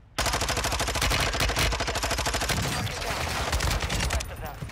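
Sustained rapid automatic gunfire in the video game Warzone, loud and continuous, with rattling rounds filling the whole stretch.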